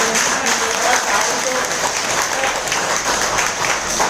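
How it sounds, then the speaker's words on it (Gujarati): A crowd claps in a loud, dense burst of applause that continues steadily throughout, with a few voices mixed in. "એવી રીતે નહીં યાર, જોરદાર તાળીઓ તો"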